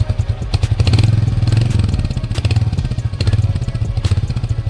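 A 2025 Royal Enfield Hunter 350 motorcycle engine starts and settles into a loud, close, steady thumping beat with a mechanical clatter.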